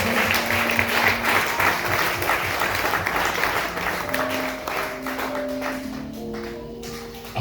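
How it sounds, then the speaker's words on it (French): A church congregation at a convention service claps together in sustained, dense applause, with some sung or voiced tones rising over the clapping toward the end. "Clap for the Lord Jesus."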